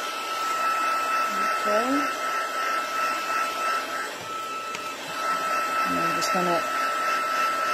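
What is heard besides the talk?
heat tool blowing hot air to dry stamped cardstock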